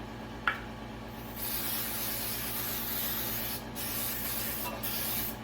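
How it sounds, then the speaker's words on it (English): A faint hiss of Baker's Joy baking spray, following a small click, sounds in a few short sustained bursts close by as a cake pan is sprayed in a quiet room. "We're going to go ahead and spray the pan."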